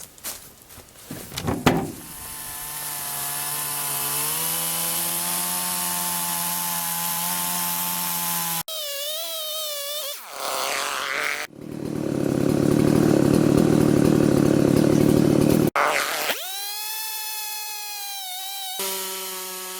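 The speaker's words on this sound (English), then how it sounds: "the last thing we'll need is a chainsaw" A loud chainsaw revs and cuts through logs in long sustained bursts, its engine pitch rising and dropping between cuts, close by with no talking.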